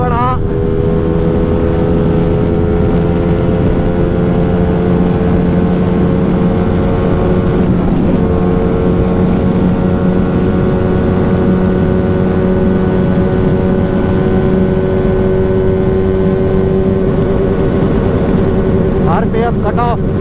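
A Hyosung GT250R motorcycle engine held at full throttle, a loud steady high-revving drone that barely shifts pitch across the whole stretch, with a brief dip midway and a rising rev near the end.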